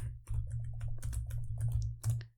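Rapid clicks of typing on a computer keyboard while entering a Python command, a steady close run of keystrokes over a low hum with no talk.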